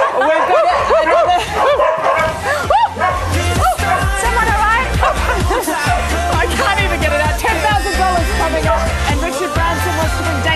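Many dogs bark, yip and whimper at once during a world record attempt, a dense, loud and continuous chorus of overlapping barks with crowd noise mixed in.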